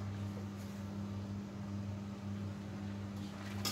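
A steady low bubbling rumble of a thick sweet rice and sugar mixture for biko boiling in a pot, with a constant hum underneath and no voices.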